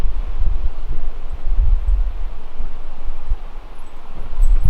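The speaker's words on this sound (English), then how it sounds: "It's a little bit windy today, and the feathers are catching the wind." Wind blows steadily outdoors on a breezy day while arrows are weighed. Gusts rumble and buffet the microphone in close, uneven surges for the whole stretch, with no voices.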